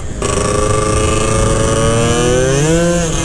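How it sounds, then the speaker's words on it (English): Small two-stroke Honda Elite scooter engines with a 120cc kit revving loudly and steadily nearby on a street, a buzzing whine that climbs in pitch near the end, with no voices. "You can hear these two-strokes echoing down the whole street right now."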